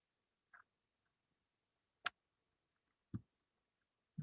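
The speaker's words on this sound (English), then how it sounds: "So I'm clicking on next." Computer mouse clicks during a SQL Server installation: a handful of faint, sparse, isolated clicks spaced irregularly over near silence.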